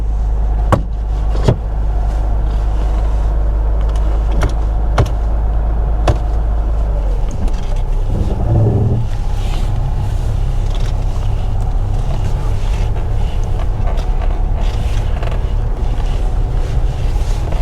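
A Mercedes W123 280E engine idling then pulling away, with steady road rumble and wind buffeting the microphone throughout, a few sharp clicks early on.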